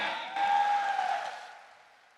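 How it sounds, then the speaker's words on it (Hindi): An audience at a sales celebration event applauds a speaker, a dense wash of clapping that swells then fades out over about two seconds, with a steady tone running beneath it. "एक बार जोरदार तालियां सर के लिए।"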